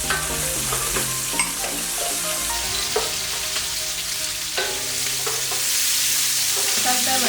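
Baby prawns and carrots stir-frying in a pan for a sweet and sour shrimp dish, a steady sizzle broken by scrapes and clinks of a spoon moving the food around.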